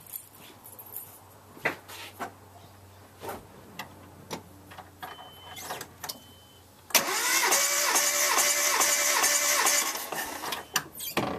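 A car engine with its spark plugs removed cranks over during a compression test, spinning fast and even with a rhythmic whir that continues for several seconds after scattered clicks and knocks, close and fairly loud.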